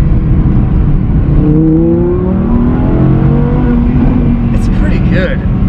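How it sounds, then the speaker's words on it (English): An Audi R8 V10 plus with its stock exhaust in performance mode, heard from inside the car with the windows slightly down, as the engine note rises and falls through a series of downshifts beneath loud road and cabin rumble. "If I put the windows down just a little bit here, in performance mode, listen to these downshifts."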